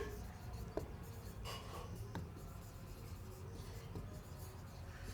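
Pen or chalk strokes during a chemistry lesson on carboxylic acid preparation, a faint continuous scratching with a few sharper taps, steady throughout under a low background hum.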